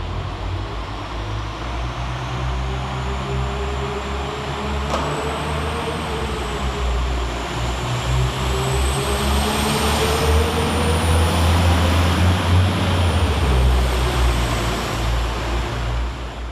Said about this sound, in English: So we get started here at Preston with 195-107, departing 5 minutes late with the 12:10 northern service